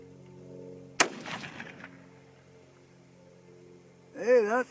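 A single sharp crack from a 22-250 Remington varmint rifle, followed by a brief decaying echo, then quiet with a faint tonal whine near the end.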